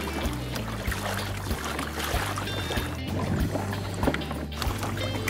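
A 2015 Hobie Mirage Pro Angler 17T tandem kayak glides through water at a steady pace, giving a continuous close wash of water over a low rumbling hum, with no talking.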